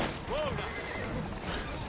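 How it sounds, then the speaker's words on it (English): A horse in Assassin's Creed Syndicate lets out one short, rising-and-falling whinny amid game noise, with voices talking around it. "Oh my god, you killed the horse."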